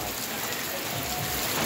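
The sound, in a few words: heavy rain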